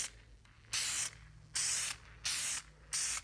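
An aerosol can of Dupli-Color vinyl and fabric paint sprays onto interior plastic parts in four short hissing bursts, each about half a second long with brief pauses between, close and clear with no talk.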